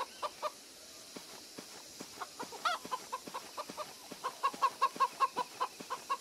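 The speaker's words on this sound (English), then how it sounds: "Yep, just chickens." Chickens cluck in the video game The Church in the Darkness, a run of short, close, rhythmic clucks that grow denser and louder toward the end, with no talking.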